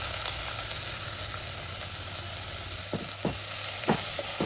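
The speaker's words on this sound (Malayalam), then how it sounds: "ഇനി ചെറുതായിട്ട് അരിഞ്ഞ മീഡിയം സൈസിലുള്ള സവാള ഇട്ടിട്ട് ഒന്ന് വഴറ്റിയെടുക്കാം" Chopped medium onion sautéing in a tablespoon of coconut oil, a steady close sizzle throughout with a few sharp scraping clicks of stirring near the end.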